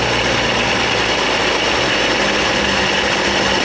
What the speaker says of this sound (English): Idling a little too high to put it in gear though.